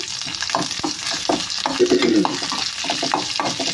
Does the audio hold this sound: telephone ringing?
no